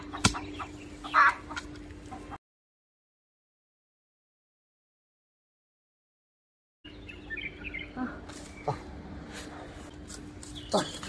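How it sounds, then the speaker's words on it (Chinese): Hens clucking around a rural chicken coop, intermittent calls mixed with other bird chirps and a person talking nearby, interrupted by a few seconds of silence midway. "茄子，你想赶鸡窝是吧？"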